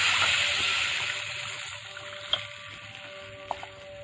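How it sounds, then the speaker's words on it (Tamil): Tamarind extract poured into a pot of pepper rasam: a steady watery hiss and trickle that gradually thins out, with a couple of brief clinks near the end. "புளி கரைசலையும் அரைச்சி வச்சிருக்கோம்ல அதுலேயும் எல்லாத்தையும் ஊற்றிக்கோங்க"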